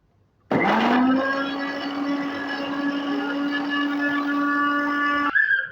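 An electric mixer grinder crushes chutney with oil and water, kicking on abruptly into a loud, whining motor drone that runs steadily for about five seconds before cutting off.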